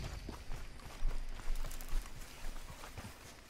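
Hoofbeats of a galloping horse in Red Dead Redemption 2 pound in a quick, steady rhythm, moderately close, with no talking.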